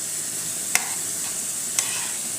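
Minced meat frying with onion in a pan, a steady soft sizzle with two sharp scraping stirs from a utensil, no talking.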